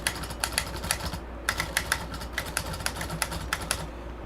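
Typing on a Smith Corona Skyriter portable typewriter, with crisp key strikes landing in quick bursts and short pauses between them, close and clear with no talk.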